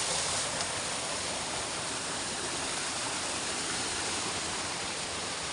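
Mountain river in a Himalayan village of Uttarakhand rushing steadily, a dense broadband roar of flowing water with no breaks, close and constant.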